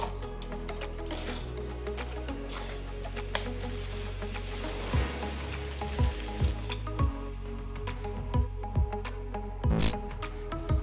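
Wet terrazzo concrete made with decorative gravel and plasticizer is poured into a formwork mould and compacted. A continuous wet, squishy churn runs throughout, and a series of dull knocks and thumps repeats through the second half.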